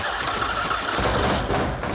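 A custom orange motorcycle engine fires up and runs at a steady, loud rumble for a couple of seconds, close and continuous with a slight lift in its note near the end.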